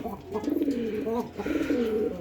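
A pair of domestic pigeons coo softly and close by, repeated low throaty rolling calls in a short sequence with a bit of background noise.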